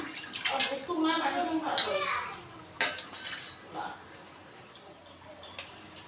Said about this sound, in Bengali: তো প্রথমেই আমি মাংসটা একটু ভালো করে ধুয়ে নেই